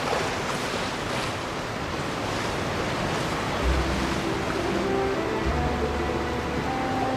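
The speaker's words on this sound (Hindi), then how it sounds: "क्या ही साउंड आ रहा है झरने गिरने का" Waterfall in the Genshin Impact video game, rendered as a steady, dense rush of falling water that holds evenly throughout with a faint low rumble, no voices.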